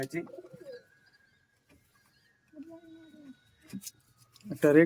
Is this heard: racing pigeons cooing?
yes